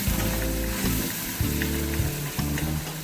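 Spices and salt fry in oil for a mutton bong paya, giving a continuous loud sizzle close by, with the stirring audible in the low rumble and no talking.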